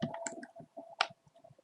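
A single crisp computer click lands near the middle, with a few softer clicks and taps scattered around it in a quiet room.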